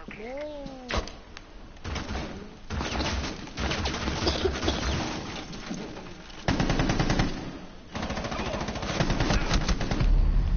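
Rapid gunfire from shooting an enemy in a video game rattles in dense bursts almost throughout, with chirpy game sounds and occasional voices mixed in.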